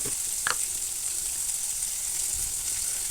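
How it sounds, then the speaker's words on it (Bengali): Thick-cut onions with a little salt frying in a pan, a steady close sizzle with one brief clink of a utensil near the start. "এবার পেঁয়াজগুলো ভেজে নেব পেঁয়াজগুলো ভাজার সময় আমি হালকা নুন দিয়ে দেবো"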